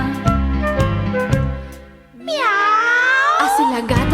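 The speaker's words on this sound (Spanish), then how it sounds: "Imitemos la gata de Doña Emelina, la que maulla en la cocina." A cat gives a drawn-out, rising meow after some rhythmic music, loud and close.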